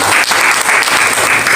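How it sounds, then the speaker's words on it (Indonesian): Church congregation applauding during a fasting-prayer sermon, a dense steady wash of clapping that fills the whole moment, loud and close, with no voices over it. "Wah, berikan tepuk tangan."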